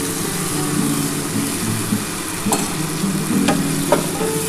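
Water splashes into spice masala sizzling in hot oil, a steady loud hiss with a few sharp clicks and spatters scattered through it.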